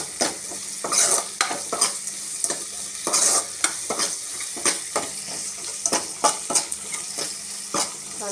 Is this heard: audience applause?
no